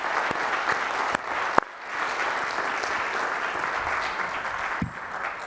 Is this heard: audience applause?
yes